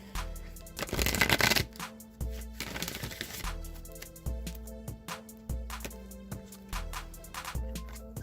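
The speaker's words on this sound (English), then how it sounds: "All right, one more shuffle." A tarot oracle deck gets riffled in two loud, rapid bursts near the start, followed by lighter card handling over steady background music, with no talking.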